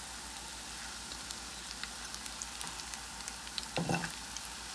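Cabbage chops fry in hot ghee and oil with a continuous, even sizzle and scattered light crackles, close and steady, with a brief rustle near the end and no speech.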